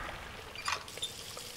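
Water trickles into a small trough in the jungle island of the game Riven, a soft steady pour with a brief brighter splash midway, faint and alone.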